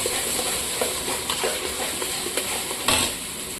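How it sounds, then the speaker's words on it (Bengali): Onion and garlic paste sautés in a pan with a soft, steady sizzle, while a spoon stirs and scrapes against the metal in occasional clinks and short rasps, close up and without any talk. "এরপর আমি অ্যাড করে দিচ্ছি পেঁয়াজ আর রসুন পেস্ট। এটা কিছুক্ষণ কষিয়ে নেব।"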